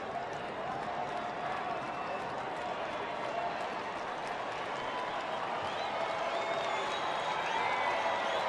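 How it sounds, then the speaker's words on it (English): A baseball crowd at a Dodgers–Rockies game in Colorado cheers and claps for pitcher Alex White, a distant, steady roar of applause that swells slightly toward the end, with a commentator talking over it. "Crowd wanting to help out Alex White."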